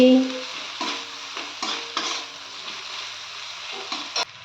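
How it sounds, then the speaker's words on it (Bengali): Spoon stirring dry chilli powder and spices in a pan for potol chingri, soft scraping strokes with a light sizzle underneath, several short stirring bursts close by. "এবার আমি এটা একটু নেড়ে নিচ্ছি"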